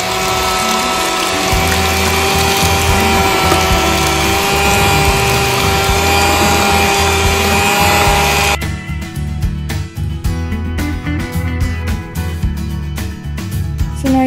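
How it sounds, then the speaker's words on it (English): Cake batter with egg for a banana chocolate cake is whisked steadily by a machine, giving a loud continuous whirr that cuts off and is followed by lighter irregular clicking and rattling. "And now we will whisk again."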